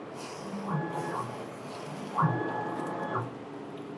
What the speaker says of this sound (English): we press X home and test vertical calibration print